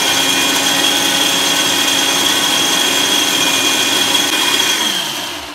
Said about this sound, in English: So we'll get that onto the blender.